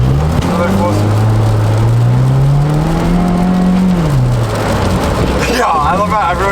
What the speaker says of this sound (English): I'm gonna do a pull from this light and watch.